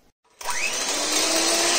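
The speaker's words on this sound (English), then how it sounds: "Let's go on to the whisking." A steady, loud whirring drone of an electric whisk beating a chocolate mousse mixture with orange; it starts abruptly after a brief silence and runs continuously up close.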